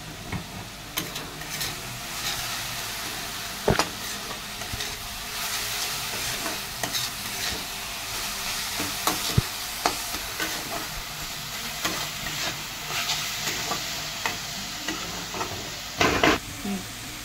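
Vegetables with garlic paste and cumin powder sizzle steadily in a pan while a spatula stirs them, scraping and clinking now and then, with a few sharper knocks against the pan near the start and end.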